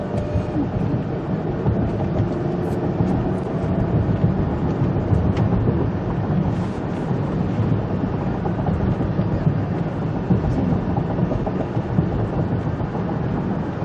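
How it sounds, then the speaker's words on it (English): A Ford car accelerating up to a 45 mph speed limit, heard from inside as a steady loud rumble of road and engine noise without pauses or talk. "This is a 45-mile-an-hour speed limit, and I'm accelerating up to the speed"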